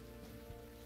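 Steady rain falls in Unavowed, a soft continuous patter beneath a low tonal hum, brief and without any voices.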